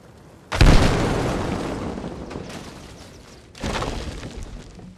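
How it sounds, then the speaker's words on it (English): A supply-laden transport truck blows up in Arma Reforger with a loud, close blast that rolls into a long fading rumble, followed a few seconds later by a second heavy explosion. "when these are full of supplies, they definitely have a huge explosion radius, huge AoE"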